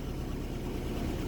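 A 1998 Mazda 626 engine idling with the air-conditioning compressor switched on, a steady low broadband hum and rumble heard close and continuous without variation.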